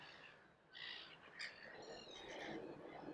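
Ducks calling in the background, with repeated honking calls and chirps over a steady outdoor hiss, moderately distant.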